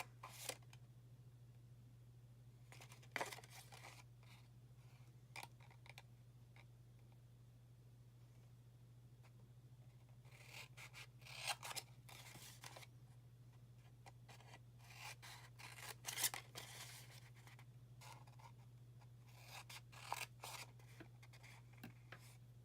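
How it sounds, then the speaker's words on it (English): Scattered scissor snips and rasping cuts along paper creases, quiet and close, come in irregular bursts over a steady low hum, with no talking. "So now we want to grab our scissors. And we want to cut up each of these creases"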